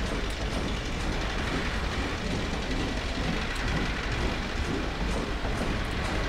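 A train rolls past in the video game Half-Life 2, a steady dense rumble with faint rhythmic clatter holding at the same loudness throughout, with no voices.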